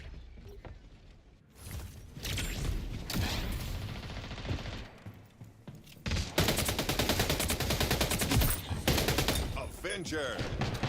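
Dense, loud gunfire from the video game Splitgate 2 comes in sustained rapid bursts, with a brief quieter gap, and continues mixed with game effects while someone talks.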